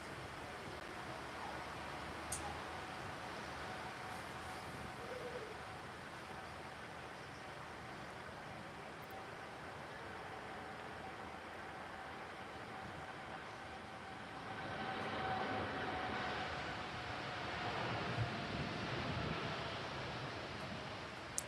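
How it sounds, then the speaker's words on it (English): A TUI Boeing Dreamliner passes at Birmingham Airport, its jet engines a broad distant roar that swells louder toward the end, heard alone without talk. "here comes the TUI Dreamliner"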